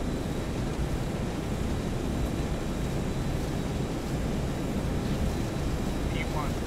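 FlyJSim Boeing 732 twinjet engines roar during a takeoff roll in a flight simulator, a steady broad rushing roar that holds evenly from start to finish.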